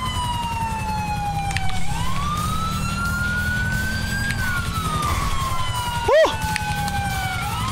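In GTA V, a police siren sweeps slowly up and down above a low engine drone, continuing for several seconds with a brief sharp yelp burst near the end.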